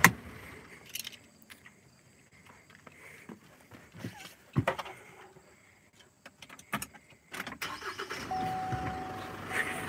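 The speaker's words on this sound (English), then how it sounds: "Let's really listen to this engine here, the diesel." A Chevrolet Colorado ZR2 diesel pickup engine cranks and catches near the end, settling into a steady rough idle after scattered handling noises, clicks and door or hood sounds.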